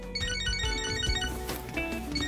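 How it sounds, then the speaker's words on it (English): A cheerful phone ringtone plays in the video game Catherine: Full Body, a steady tonal melody with music underneath, running clearly for about two seconds at moderate loudness. "Oh, my phone."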